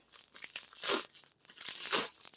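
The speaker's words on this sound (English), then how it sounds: "we're going to just use the scissors to start it off" Scissors snip into a bubble wrap package, giving crinkly plastic rustling with two sharper crunching cuts about a second apart, quiet and close.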